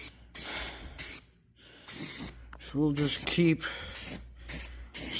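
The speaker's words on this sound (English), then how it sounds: "spraying on the red primer and getting" Aerosol spray can hissing as red primer goes onto a John Deere X300 lawn mower, several steady bursts with short pauses, while someone talks between and over them.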